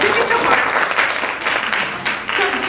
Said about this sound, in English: Round of applause for our chasers.